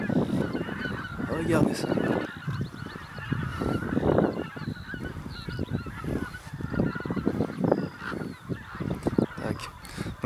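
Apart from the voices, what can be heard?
geese honking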